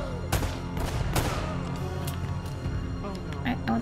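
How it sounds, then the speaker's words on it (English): Gunfire rings out in Uncharted: Drake's Fortune, with sharp repeated shots and bursts layered over a dense game soundscape of music and effects, with talk running over it. "I shot him in the head."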